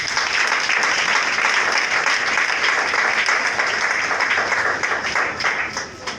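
A church congregation applauds in a long, dense burst of clapping that fills the room steadily and then tapers off toward the end.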